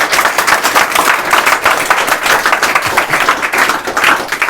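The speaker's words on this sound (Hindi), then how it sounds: "सर के नाम पे एक जोरदार ताली बजा देते।" A room full of people claps together, a dense, continuous patter of hands that stays loud and even throughout.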